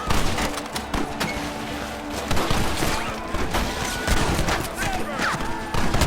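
Gunfire from a Western shootout in Red Dead Redemption, a dense, chaotic barrage of shots and impacts running continuously and loudly, with shouting voices mixed in.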